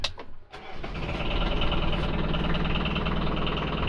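A Piaggio scooter engine cranks briefly and then catches, settling into a loud, steady, rattling idle with a coarse vibrating buzz that runs on without a break.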